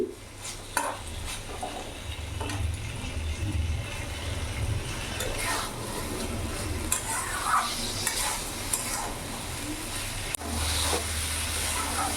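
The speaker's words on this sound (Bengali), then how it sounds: "এইভাবে ঢেঁড়সের সাথে কিছুক্ষণ আমি ভেজে নেব" Okra fries in a pan with spices for a vegetarian dish, a steady sizzle with occasional scraping and stirring knocks from the utensil, and soft speech now and then.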